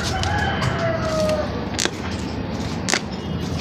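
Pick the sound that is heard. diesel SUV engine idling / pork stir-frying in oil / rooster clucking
rooster clucking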